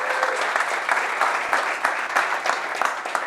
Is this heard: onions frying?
no